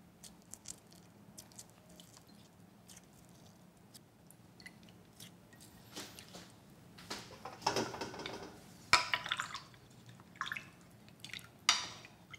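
Liquid drips and patters from a squeezed cheesecloth seasoning pouch for radish water kimchi with apple broth, a faint trickle that swells into louder wet bursts and splashes toward the end, with no talk.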